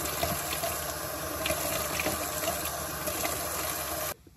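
Running water splashes steadily and close by while a face is being washed, then stops abruptly near the end, with no talking.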